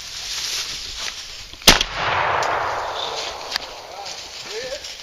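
A single sharp gunshot cracks out during a quail hunt in open country, followed by a brief rustle and a fainter later pop, while people speak around it.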